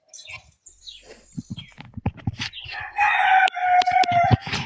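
A rooster crows loudly nearby, a drawn-out strident call in the second half, following scattered clucks, pecking and rustling sounds at a backyard.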